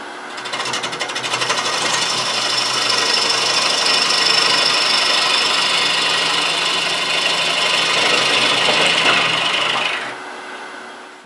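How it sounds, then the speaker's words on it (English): A bowl gouge cuts steadily into spinning wood on a lathe, cutting from the center outward, a loud continuous rasping hiss with a faint motor hum underneath that stops abruptly near the end. "So in this case I'm using a bowl gouge"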